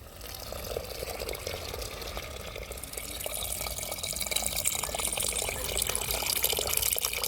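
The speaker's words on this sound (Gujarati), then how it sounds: "ત્યારબાદ આપણે પાણી નાખશું." Water is poured into a cooker over spiced lentils and rice for Girnari khichdi, a continuous splashing trickle that grows slightly fuller and louder as the pot fills.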